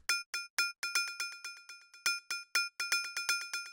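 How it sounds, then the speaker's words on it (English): Bright, metallic FM-synthesized bell tones made with Ableton's Operator ring out in a quick rhythmic pattern for melodic techno, each note striking sharply and decaying fast, playing alone. "this little FM bell sound"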